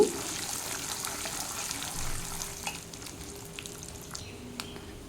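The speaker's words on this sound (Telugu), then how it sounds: "పల్లీలు కూడా దోరగా వేయించేసుకోవాలి" Peanuts fry in oil in a pan, giving a soft continuous sizzling hiss with faint crackles and a few light clinks, close but quiet, with no talking.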